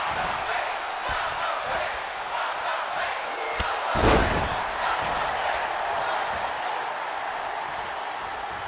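An arena crowd in a WWE 2K wrestling game chants and roars continuously, a dense wall of voices with a sharp impact thud midway and a commentator talking over it.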